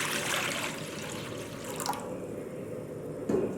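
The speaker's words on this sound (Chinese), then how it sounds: "锅内倒水烧开" Water pours and splashes into a cooking pot, a steady broadband rush running close and fairly loud throughout, with a small clink near the end.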